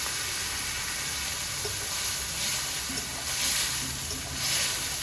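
Fried eggs sizzle loudly and steadily in a pan as a little water is added while cooking egg korma, with a continuous close frying hiss and no talk.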